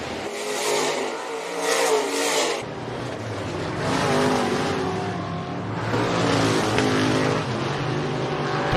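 Race cars roar through a heat race at Rapid Speedway, engines revving and droning continuously as the pack passes close by, with the loud engine noise swelling and fading in waves.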